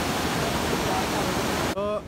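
A swollen river at Jogighat roars in a steady, loud, unbroken rush, and a voice cuts in briefly near the end as the roar drops away.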